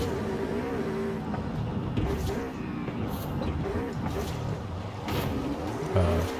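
A Volkswagen car drives in the racing game Forza Horizon 5, its engine a steady, continuous drone with slight rises and dips in intensity throughout.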